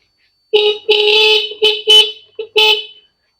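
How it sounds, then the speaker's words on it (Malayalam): A modified electric scooter's horn sounds five short, loud beeps in an irregular sequence, close up and alone, against near silence. "പിന്നെ ഹോൺ ഉണ്ട് കേട്ടോ"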